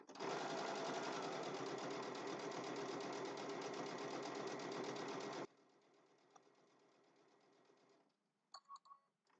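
Sewing machine stitching a triangle zipper bag, running loud and steady for about five seconds, then dropping to a quieter hum with a few light clicks and handling taps toward the end.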